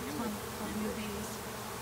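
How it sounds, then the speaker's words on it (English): Steady, close buzzing of many bees from a collected swarm, a low continuous drone that hums on without pause. "There are a ton of new bees."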